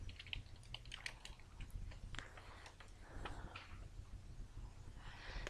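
Fingers tap quickly on a computer keyboard in short, irregular bursts of soft, close clicks, with a brief pause partway through and no talking.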